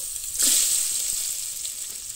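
Ginger and garlic drop into hot oil with a sudden bright sizzle that then eases into a steady, softer crackle, close up and without any talk.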